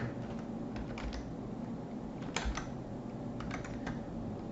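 Fingers tap keys on a computer keyboard in quick irregular bursts with short pauses, close and fairly clear over a steady background hiss, no one speaking.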